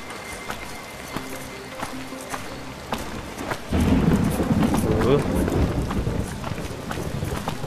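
Rain and a thunderstorm in the video game I.G.I.2 at a factory, with steady rainfall that swells into a louder rumbling downpour partway through, heard alone without talk.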